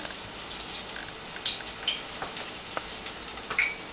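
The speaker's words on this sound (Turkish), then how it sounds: "Hemen peynirli patlıcanlarımızı kızarmış halis zeytinyağda kızartıyorum." Soft, steady sizzling of floured eggplant slices frying in olive oil, with scattered pops and crackles close by and no talking.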